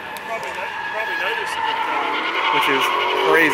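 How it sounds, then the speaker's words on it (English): Drifting cars at an outdoor auto fair with Hellcats, Corvettes and Mustangs, tires squealing and engines revving in the background while someone talks over the noise up close. "probably hear the drifting going on in the background."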